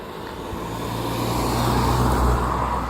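A car passes along a residential street near Hirschgarten, its steady roadway rumble swelling gradually louder over a few seconds, with no talking.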